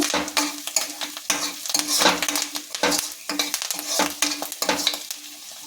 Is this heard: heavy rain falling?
no